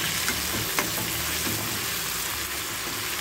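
Veld grape sautéing in oil with tomato and onion, giving a steady, dense sizzle with occasional soft stirring scrapes and no voices.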